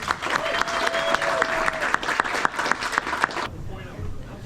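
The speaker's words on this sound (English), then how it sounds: "One more round of applause for Elizabeth," A live audience gives a storyteller a loud round of applause, dense clapping with some sharper individual claps and crowd noise, which cuts off abruptly near the end, leaving a quiet room.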